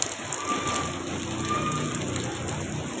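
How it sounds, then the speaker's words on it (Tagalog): Heavy rain pours down steadily in the Philippines, a dense, continuous hiss of drops drumming on surfaces close by, loud and even throughout with no voices. "Uy, lakas ng ulan."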